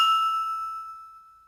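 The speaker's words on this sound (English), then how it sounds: "So now the tuned glass sounds like this." One clean glassy ding, pitch-corrected to the nearest musical note, sounds alone, its pure ringing tone decaying gradually over about a second and a half.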